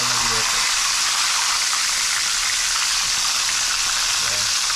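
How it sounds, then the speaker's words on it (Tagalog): Fish fry in hot oil in a pan, giving a loud, steady sizzle that continues without a break throughout. "Ganda ng pagpipirito."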